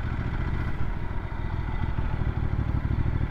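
A Ducati Multistrada V2 motorcycle engine rumbles steadily up close while riding, a low throbbing drone with rattly mechanical clatter and no voices.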